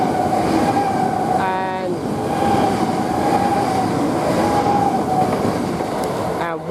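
A Great Northern Class 387 electric train on the Ely to London King's Cross service passes through Royston station, a loud steady rumble of wheels with a sustained whine, and brief squeals near the start and end.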